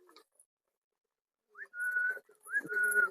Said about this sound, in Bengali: ওই দেখো দেখো সাল্লু ভাই দেখো বেবির পেছনে ডাকাডাকি করে।